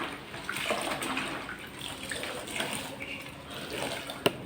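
A cloth handkerchief is dunked and swished in a bucket of surf detergent water while cleaning a refrigerator, giving soft close sloshing and dripping with a small splash near the end.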